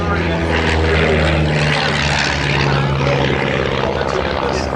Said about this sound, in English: Prince Charles, undertook 101 training flights in this aircraft